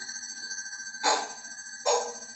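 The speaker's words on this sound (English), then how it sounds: "So I think this is like the one from the dark saber sound font" Swing on a Kyojin lightsaber running a dark saber sound font: a steady high humming tone broken by two loud whooshing swings about a second apart, with no voices.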